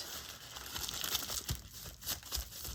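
Sheet of deli paper being crumpled by hand during gel printing, with quiet crinkling and crackling bursts that come in uneven waves, close and fairly soft, with no talking.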